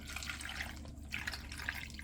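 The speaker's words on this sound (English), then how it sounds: "And then we're just going to add some water." Water runs into a cooking pot with onion already in it, one cup for a red snapper in pumpkin sauce dish; a steady close splashing trickle with small bright drips, no talk.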